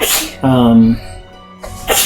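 A single sharp sneeze bursts out at a tabletop Dungeons & Dragons game, close and loud, with a brief voiced sound between the bursts.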